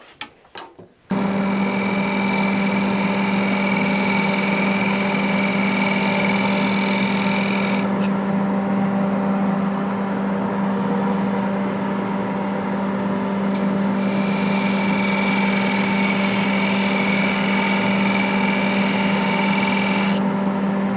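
A wood lathe spins an Iroko wood bowl with a steady, loud motor hum and tonal whine that shifts slightly as the tool engages, continuing for the whole stretch after a brief start.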